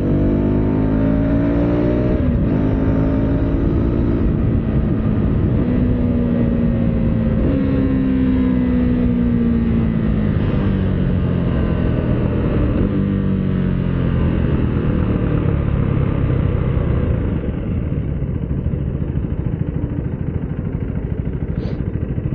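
Husqvarna Vitpilen 401 motorcycle engine while riding, a loud continuous close engine drone with rising and falling pitch through gear changes and wind rush.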